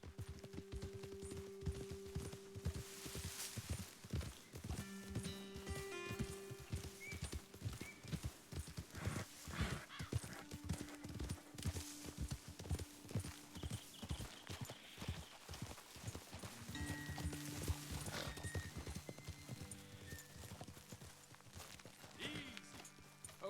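Steady clip-clop of horses trotting on hard ground in the video game Red Dead Redemption 2, a continuous rhythmic patter of hooves with occasional snorts, fairly quiet throughout.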